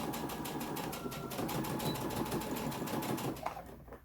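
A sewing machine runs steadily, stitching a lunchbox placemat with a fast, continuous mechanical whir that slows and stops near the end.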